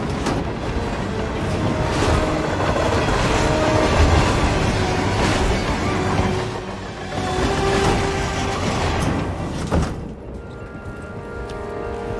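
A train rolls along rails in the Hitman 3 video game's Romania level, a loud, continuous rumble with clattering wheel noise that eases slightly toward the end, with no talking.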